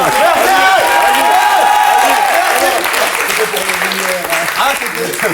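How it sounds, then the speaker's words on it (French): A French television talk-show studio audience applauds loudly and steadily while voices talk and laugh over the clapping. "applaudissements pour ma vanne"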